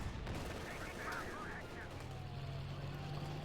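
Gunfire and anti-tank gun shots from the video game Company of Heroes 2 hammer a King Tiger tank, dense muffled booms and rattles under a steady engine rumble, with no talking.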